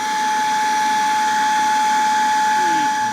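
A Shark vacuum cleaner runs continuously with a steady, loud motor whine and airy hiss, unchanging for the whole stretch.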